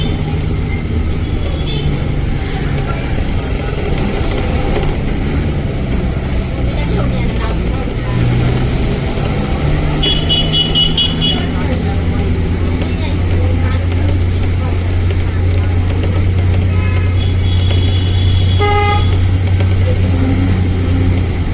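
From inside a car moving through Sunday city traffic, a steady loud road and engine rumble carries on throughout, with horn honks breaking through in places and a voice talking over it.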